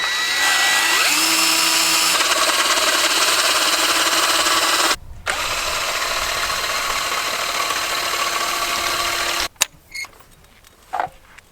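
A Ryobi 14.4 volt cordless drill runs loud and close in a steady whine that drops briefly to a slightly lower pitch midway, then cuts out, leaving a few faint clicks and handling sounds.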